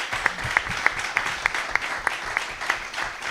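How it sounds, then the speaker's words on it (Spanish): Audience applause at a comics talk in Puente Genil, steady crowd clapping with a few sharper individual claps standing out in a regular pattern, moderately distant, no voices over it. "le mandamos un aplauso desde aquí a Carlos para que nos vea"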